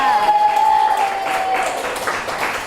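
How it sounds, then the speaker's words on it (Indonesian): A room of people applauds for the children in a short burst of mixed clapping, moderately loud and close, with a lingering tone under the start. "Tepuk tangan dulu untuk mereka."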